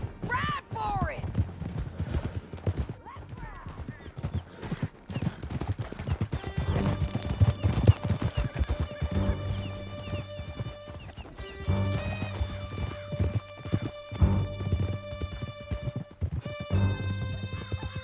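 Horses gallop in the video game Red Dead Redemption 2, with steady, close hoofbeats and occasional whinnies continuing throughout, layered under sustained musical tones.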